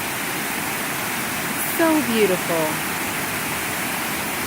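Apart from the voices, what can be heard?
circular waterfall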